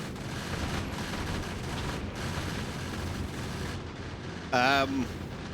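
Ship turrets firing on asteroids in the Factorio Space Age video game: a steady, dense rattle of continuous gunfire under game noise, with a short tonal chirp near the end.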